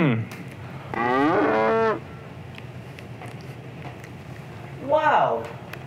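A man imitates cow moos with his voice, giving two drawn-out, wavering lowing calls, a long one near the start and a shorter one near the end, loud and close, with faint background room noise between.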